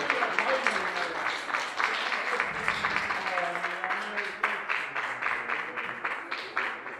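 A rock festival crowd applauds a band at a spring outdoor concert in Järva-Jaani, with dense, steady clapping that carries on for several seconds, a few voices mixed into the sustained applause.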